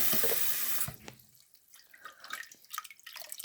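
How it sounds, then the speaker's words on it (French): Water poured into a frying pan of pasta: a loud rushing pour for about a second, then softer sizzling, bubbling and spattering from the pan, with no talking. "On rajoute de l'eau."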